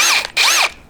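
A power drill bores a hole into a metal ammo can, two loud, close whining bursts of the motor revving up and down, separated by a brief pause.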